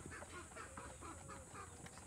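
Breeder chickens in a mini backyard farm cluck softly and intermittently, faint low murmurs over a steady background hiss.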